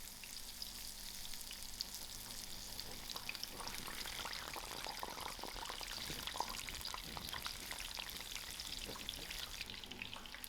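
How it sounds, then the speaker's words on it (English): Jackfruit bhajias frying in hot oil, a soft, steady crackling sizzle with fine popping, faint and even for the whole stretch. "I will allow this batch to fry."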